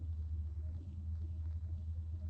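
A car engine rumbles low and steady throughout a tense radio-drama scene, a continuous deep idle filling the background with no voices heard.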